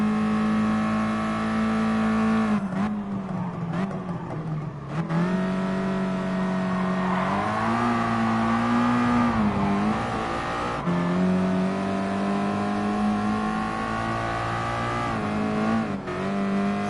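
Mazda Atenza Gr.4 race car in the Gran Turismo Sport video game, its engine droning loud and steady with rising and falling revs through gear changes and corners, no talking.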